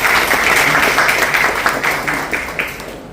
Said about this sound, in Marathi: आपण ह्या सगळ्या पत्रकारांचं टाळ्या वाजून